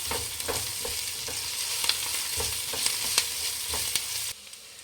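Tomatoes frying in a pan for egg rice give a steady loud sizzle, broken by repeated sharp scrapes and taps of a stirring spoon, before the sound suddenly drops away near the end.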